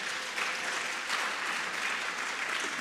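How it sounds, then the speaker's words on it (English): An audience at an annual media convention gives a round of applause, steady dense clapping from a crowd at a moderate distance, continuous for a few seconds. "the round of applause is in order"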